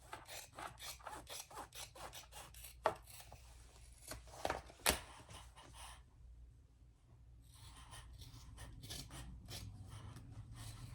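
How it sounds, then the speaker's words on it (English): Scissors trim fabric while sewing, a steady series of close rhythmic rasping cuts with a few sharper snips, then a pause before a softer continuous rustle of cloth, quiet with no talking. "Now we are going to trim that, except for the top inch or so."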